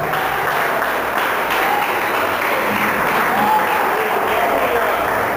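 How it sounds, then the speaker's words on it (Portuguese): Church congregation applauding, a loud continuous wash of clapping from many people filling the space without pause. "Dê uma salva de palmas para Ele."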